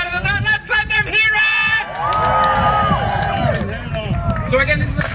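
A crowd at a Viking festival armoured sword-and-buckler combat bout cheers and shouts loudly, with whoops and children's voices rising over a dense babble of onlookers that holds steady throughout.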